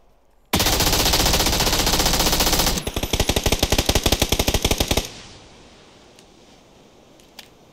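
Loud, close automatic gunfire in a PUBG battle royale match: a sustained roar of shots, then a rapid string of distinct cracks, before dropping to quiet background with a couple of faint distant pops.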